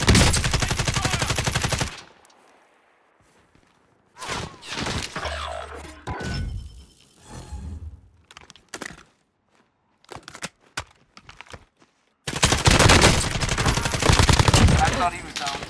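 Automatic gunfire in Call of Duty: Modern Warfare (2019) during a Warzone Plunder match: loud, dense bursts open and close the stretch, with scattered quieter shots and impacts in between.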